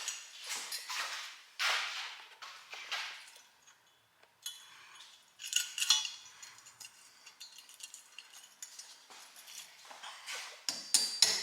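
Sharp metallic taps as Dynabolt anchor bolts are tapped into drilled holes, in several quick bursts, close by, with short pauses between clusters of hits.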